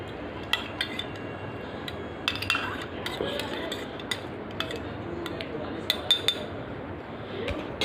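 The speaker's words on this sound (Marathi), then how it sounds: "चमचा घ्यायचा आणि मग मिक्स करायचं म्हणजे हलवायचा." A spoon stirs a mixture in a bowl or pot while a recipe is being prepared, giving scattered light clinks and scrapes of metal against the dish, fairly close, over a low steady background with some talk.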